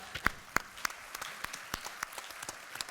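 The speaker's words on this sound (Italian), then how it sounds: "Oh, vogliamo un grande applauso." Light, scattered applause from a small group, a few sharp claps standing out before the clapping thins out.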